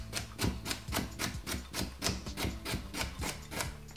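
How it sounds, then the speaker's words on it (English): Knife chopping a carrot into small pieces on a cutting board, with a steady run of about a dozen close, crisp chops at an even rhythm and no talking. "So you just make sure you cut up a carrot."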